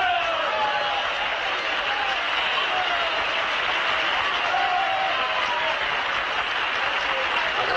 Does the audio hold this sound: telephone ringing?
no